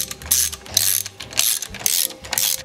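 A ratchet tightens bolts on a 1977 Ford Quadravan, loud close bursts of rapid clicking pawl action in about five separate strokes with brief pauses between them.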